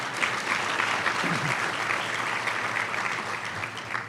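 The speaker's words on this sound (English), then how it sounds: "let's give them a round of applause for being here." Sustained applause from the audience at a charity luncheon, dense steady clapping throughout at moderate loudness with no speech over it.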